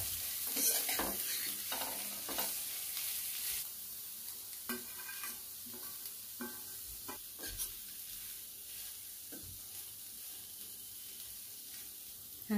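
Boiled potatoes stirred into aloo masala in a hot pan, a steady sizzle and hiss beneath repeated scraping strokes of a spoon, close and continuous.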